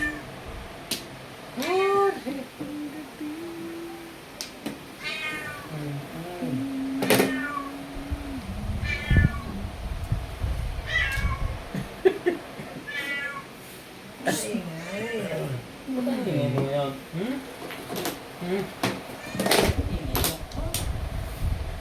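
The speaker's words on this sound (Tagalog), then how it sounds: "Bagong pusa. Ingay ng George." A cat meows repeatedly, some calls short and others drawn out, with people talking quietly nearby and occasional clunks in the background.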